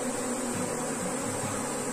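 A dense, steady hum of honey bees buzzes at an opened beehive during a hive check after a colony split, close and continuous with no talking.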